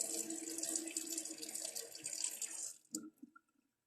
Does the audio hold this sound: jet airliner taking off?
no